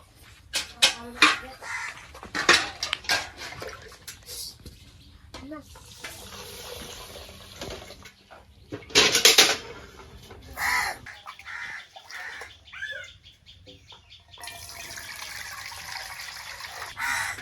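Water sloshing and splashing in short, uneven bursts as rice is washed by hand, with quieter pauses between and faint birds in the background.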